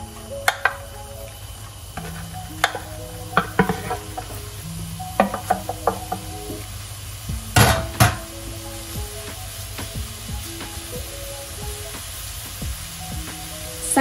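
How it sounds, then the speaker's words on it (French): Cabbage, carrots and shallots pan-fry in a hot pan, giving a constant sizzle broken by repeated stirring clicks and scrapes of a utensil, with one sharp loud clatter partway through. "on va poêler le chou, les carottes et les échalotes"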